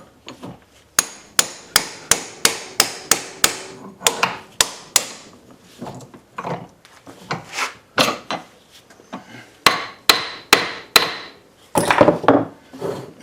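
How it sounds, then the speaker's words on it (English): Ball peen hammer striking a Reed 105 vise under repair, a long series of sharp metallic taps, quick and evenly spaced at first, then irregular, close and loud with no talk. "Let me tap it a little with the ball peen."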